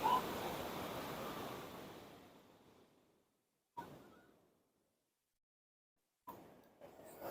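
Waves from a large ocean swell crash and wash ashore, one long surging roar that slowly recedes into silence, followed by two more breaking waves in quick succession.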